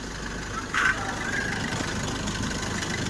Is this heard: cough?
no